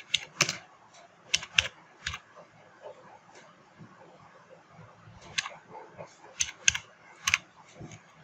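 Keystrokes on a computer keyboard as a name is typed into Canva design software: short bursts of crisp clicks, a cluster near the start and another later, with quiet gaps and faint room noise between.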